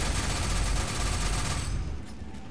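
Rapid automatic gunfire from the Telos Akbolto in Warframe, a dense unbroken stream of shots emptying a magazine, loud and close for about two seconds before cutting off into quieter game ambience.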